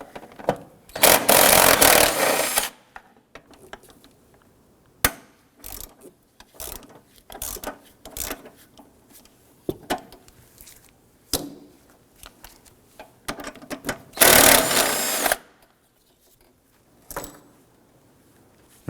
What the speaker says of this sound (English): These 2 here are 12mm.